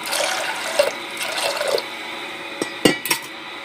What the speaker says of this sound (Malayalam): വെള്ളം കൂട്ടി കൊടുക്കാം